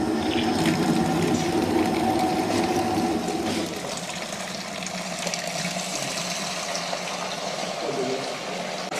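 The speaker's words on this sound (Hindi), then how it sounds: "इन तीनों में जो बचा हुआ गर्म पानी है उसे हम बाहर निकालेंगे।" Leftover hot water drains out through the nozzle of a frozen-vegetable food processing machine after pea blanching, a steady rushing gush that eases slightly partway through and continues without pause.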